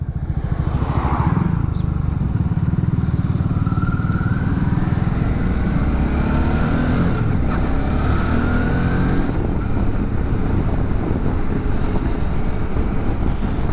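A Suzuki V-Strom 650 XT motorcycle engine hums steadily and loudly while riding, with a low droning tone and rushing wind noise and no voices.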